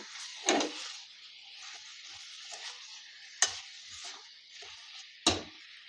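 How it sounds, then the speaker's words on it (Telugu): Soft sizzling in a pan with a few sharp scraping strokes of a spatula as chicken is stirred into the tempering, fairly quiet and close. "ఇలా చికెన్ వేసుకున్న తర్వాత ఒక్కసారి తాలింపులో అంతా మిక్స్ అయ్యేలాగా కలుపుకుందాం"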